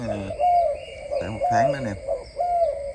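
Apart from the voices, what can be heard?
imported pigeons cooing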